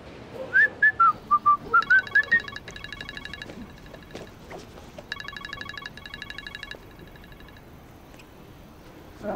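A phone call being dialed: a quick run of tone beeps, then a steady pulsing ringback tone repeating in bursts under faint background hum.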